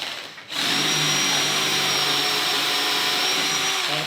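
A small bit bores into wood for a hand plane tote. The drill whines up after a brief quiet start, then holds a steady loud grinding drone for several seconds, close up with no talking.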